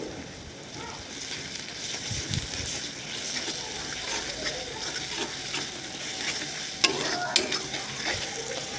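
Garlic and ginger paste fried with onion and chili on low flame in oil for chicken curry, a continuous moderate sizzle with stirring scrapes and a couple of sharp utensil clicks near the end.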